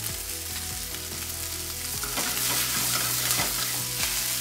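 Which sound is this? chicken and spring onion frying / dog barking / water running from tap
chicken and spring onion frying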